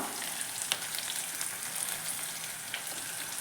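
Chopped onion, green chilli and garlic sauté in a hot pan with oil, giving a steady, close crackling sizzle with small pops throughout and no voices.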